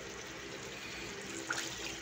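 Water pouring steadily into a cooking pot while making laing, a soft, even, continuous splashing stream at low volume with no talking.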